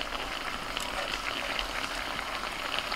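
Chicken simmering in its own released juices with green chilli and chopped tomato, a soft, steady bubbling and sizzle, quiet and close, with no talk.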